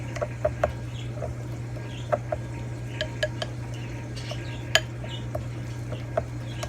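Stirring Chihuahua cheese into an egg mixture brings soft, scattered clinks and scrapes of a utensil against a bowl over a steady low hum, faint and irregular.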